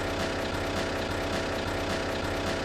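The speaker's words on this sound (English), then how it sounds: "that's the sound you get when you reach your limit on your slide out" An RV slide-out mechanism hitting its travel limit: harsh, continuous mechanical grinding and rapid rattling, like a motor straining against a stop, steady and loud throughout with no talking.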